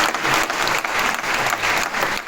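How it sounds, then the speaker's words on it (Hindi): An audience at a spiritual gathering bursts into steady, loud applause, a dense, unbroken clatter of many hands clapping that lasts throughout. "सभी के लिए जोरदार तालियां।"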